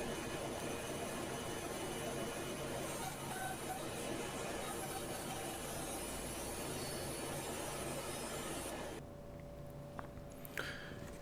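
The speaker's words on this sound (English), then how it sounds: "Now I'm over on the bandsaw and I'm resawing some Spanish cedar to that 1/4 inch" A bandsaw resaws Spanish cedar to quarter-inch thickness, with a steady, loud motor roar and blade whine held close for most of the stretch. It drops away near the end, leaving a quieter room with a faint tone and a few small clicks.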